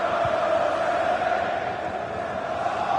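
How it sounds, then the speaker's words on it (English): Stadium crowd in the FC 24 football video game during an Arsenal Champions League match, a steady, distant roar of cheering and chanting spread evenly throughout with no clear peaks. "Being egged on by the crowd."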